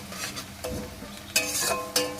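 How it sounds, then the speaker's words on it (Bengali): Fried onions for a mutton kosha sit in a pan under a soft sizzle, broken by a few sharp spoon or spatula knocks and scrapes against the pan. "চলো আমাদের পেঁয়াজ ভাজা হয়ে গেছে"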